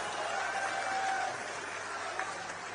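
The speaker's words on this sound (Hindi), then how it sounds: "तो पूरा सदन तालियों से गूंज उठा" Applause fills a parliamentary chamber as the house erupts in clapping after a minister's speech, a dense steady wash of many hands heard from a distance.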